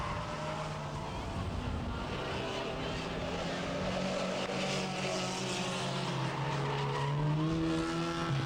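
Banger racing cars roar around Bovingdon Raceway, their engines droning continuously and rising and falling in pitch as they pass, with commentary over the top.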